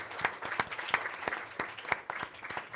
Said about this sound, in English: please let's thank the Minister with a round of applause